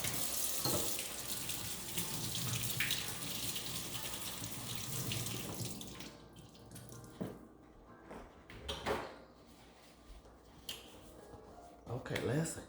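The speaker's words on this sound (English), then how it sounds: "Let me wash my hands real quick." A kitchen faucet runs steadily for about six seconds while hands are washed, then shuts off, leaving short splashes and handling noises; a voice is heard talking during the clip.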